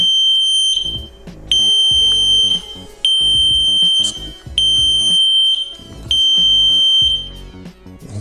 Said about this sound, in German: Sehr lautes Gepiepe.